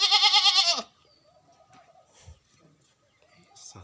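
A goat gives one loud, close, wavering bleat at the start, haggled over in a village sale. Quieter talk and faint background sounds follow once the bleat stops.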